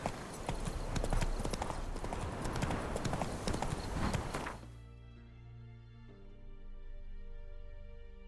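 Hooves of Roach, a horse in the video game The Witcher 3, clip-clop at a fast gallop for about four seconds, loud and dense. The hoofbeats then drop away and leave a quieter tonal game ambience with no talk.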